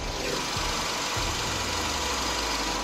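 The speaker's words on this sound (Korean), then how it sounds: "엔진 소음을 담기 위해 본네트를 한번 열어봤는데요 영상으로 엔진 소음 한번 담아보도록 하겠습니다" Idling engine of a 2016 Samsung SM7 Nova LPG sedan, heard with the hood open: a steady, low, even hum, close and continuous with no voices.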